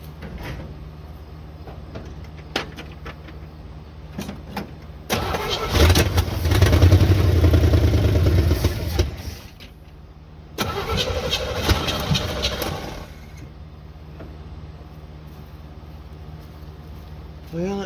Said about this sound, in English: Well, it fired up on what little fuel was in the bowl.